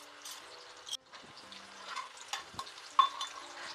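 Dal frying in a tempering of oil with dried red chilies for gongura fry, a quiet crackling sizzle with a few soft clinks and stirring sounds.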